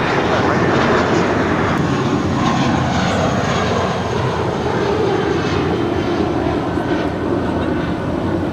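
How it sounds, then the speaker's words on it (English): An American Airlines Airbus A320, formerly flown by America West Airlines, roars loudly and steadily down the runway at LAX on takeoff, a continuous broadband jet rumble that holds strong throughout. "That was American Airlines Flight 539 heading to Austin, Texas. A320 originally with America West Airlines"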